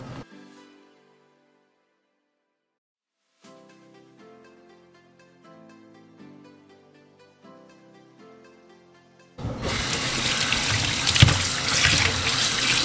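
Kitchen tap water pours steadily into a sink to wash tilapia, a loud continuous gush that bursts in after a quieter stretch of tonal music.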